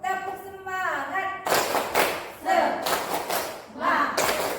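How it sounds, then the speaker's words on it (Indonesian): A group of women at a discussion session performing a rhythmic spirit clap, sharp bursts of clapping in a patterned beat that begin after a voice speaks and repeat in close, loud clusters. "Tepuk semangat lagi Ibu."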